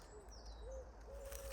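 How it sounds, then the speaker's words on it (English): Owls hoot softly in a forest at night, three faint, short hoots spaced apart against quiet background hiss. "There's owls to my left."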